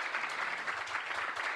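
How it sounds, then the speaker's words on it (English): Applause from an audience at a Lyft payments meetup, thanking the event's speakers: a steady, moderately faint wash of clapping from a room of people, continuous throughout with no distinct voices. "Can we give a loud round of applause for all the speakers?"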